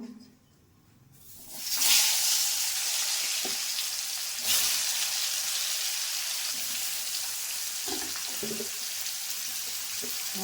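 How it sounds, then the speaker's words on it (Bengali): Oil poured into a hot kadai for a soybean and potato dish bursts into loud sizzling, then settles into a steady close frying hiss with a few soft clinks. "কড়াটা আমার গরম হয়ে গেছে, তো হালকা করে আমি একটু তেল দিয়ে দেবো।"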